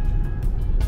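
Cars driving along a San Francisco street produce a steady low rumble of traffic, close and continuous, with a swell near the end as a vehicle passes by.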